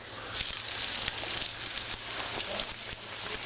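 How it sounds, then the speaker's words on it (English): Chicken tenders breaded in Dieffenbach's kettle potato chips frying in hot oil, giving a steady, close crackling sizzle with small pops throughout, no talking. "So, I'm going to add the tenders in first."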